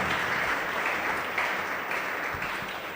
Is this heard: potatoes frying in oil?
no